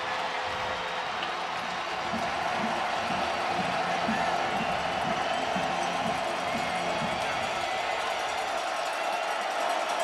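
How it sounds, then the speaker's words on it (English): A packed football stadium crowd roars steadily at a Texas Tech home game against Kansas State, a loud dense wash of cheering and noise holding through the whole stretch without letting up. "And the crowd is back in it now."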